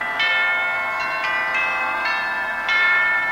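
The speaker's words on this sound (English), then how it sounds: "The cathedral chime," Cathedral chime effect on a cinema organ: bright, bell-like sustained tones struck in a slow irregular sequence of about six notes, each with a sharp onset and long shimmering decay, played alone with no talking.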